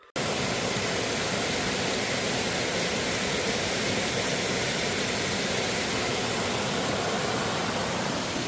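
A waterfall on a wilderness trail roars in a steady, dense wash of broadband rushing water that holds unchanged throughout, with no voices.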